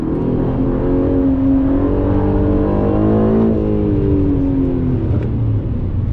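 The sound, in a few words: Aston Martin sports car accelerating, engine revving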